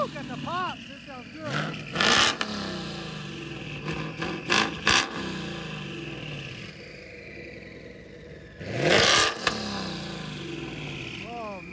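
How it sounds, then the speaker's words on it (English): Inside a twin-turbo 2019 Mustang GT fitted with a Corsa exhaust, the engine drones steadily and swells into two loud revs, with people talking between the throttle blips. "Sounds so good with the Corsa."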